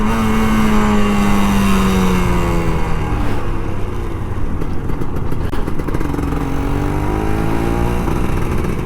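An older Kawasaki Ninja RR 150 motorcycle accelerates hard on a morning ride, its engine pitch climbing and shifting through gears in a loud, continuous rev close by, with no talk.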